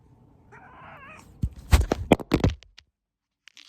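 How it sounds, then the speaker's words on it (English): A pet cat gives a short rising meow, followed by louder knocks and rustling crackles close by, then quiet. "Can you hear that? My cats."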